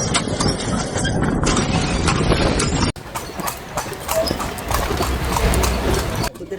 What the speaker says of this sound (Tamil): குதிரை வண்டி தான் சவாரி செய்யறது